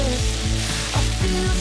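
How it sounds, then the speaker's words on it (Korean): Seaweed stems and vegetables stir-fry in a pan, sizzling loudly and close. A spatula scrapes through them in quick, regular strokes, roughly four times a second. "미역줄기와 야채 넣고 4분 정도 볶았는데요"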